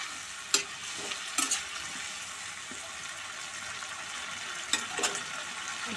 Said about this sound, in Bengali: এবার মশলাটা নাড়াচাড়া করে কষাবো।